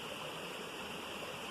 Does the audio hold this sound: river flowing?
yes